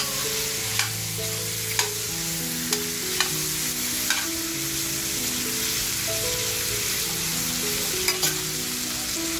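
Tandoori mutton chops frying in a pan give a steady, dense sizzle with periodic sharp clicks and scrapes of stirring, close and fairly loud throughout, with no talking.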